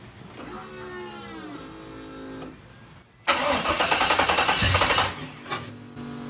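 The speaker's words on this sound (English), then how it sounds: "I'm gonna fire the bad boy up." Engine of an El Camino with an LS swap starting up: a whirring starter crank and pause, then a loud rough idle with a pulsing exhaust burble, close and without talk.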